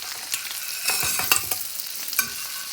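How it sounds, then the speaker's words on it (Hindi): Eggs frying on a hot tawa after being flipped to the other side, a close, even sizzle broken by a few quick spatula scrapes and taps, with no talking. "बस अब हमने 1 मिनट के लिए इनको ना दूसरी साइड से भी फ्राई कर लेना।"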